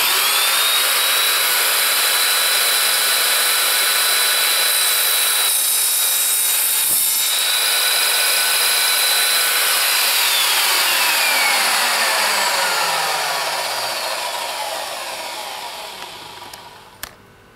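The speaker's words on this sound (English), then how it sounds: "it cuts metal cold" Evolution Fury 3-S saw cutting through unistrut metal, a loud continuous high-pitched whine with a shifting tone that winds down and fades near the end, close with no talking.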